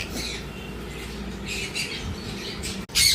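A young pet parrot chick, a conure or cockatiel chick, gives harsh squawks over a steady noisy background, ending in a sharper burst.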